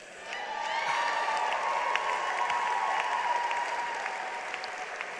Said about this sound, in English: I guess I don't have to ask you to give another round of applause.